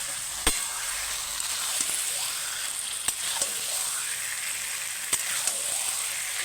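Taro leaves (kochu shak) frying in oil in a pan: a continuous bright sizzle heard up close, punctuated every second or two by sharp clicks and scrapes of a spatula stirring against the metal.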